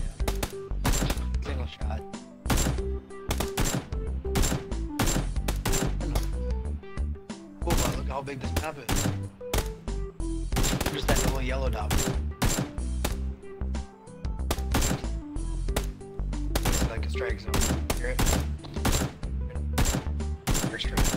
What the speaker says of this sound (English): you're in the middle of a gunfight